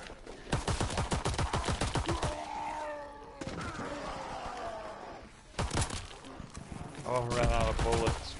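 Rapid gunfire in the video game The Shadowed Throne. A fast burst of sharp shots rattles off, pauses, and then a few more single shots follow, with voices talking over and between them.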